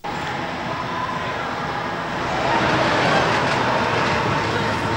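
Steady rumble and clatter of a Metroland rail ride, a continuous broadband roar with rolling wheel noise that swells slightly midway, heard close and alone without talk.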